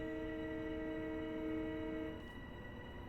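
A LIRR M7 electric commuter train in the Train Sim World game sounds its horn, a sustained chord of steady tones over low rumble that cuts off after about two seconds, leaving the quieter running noise.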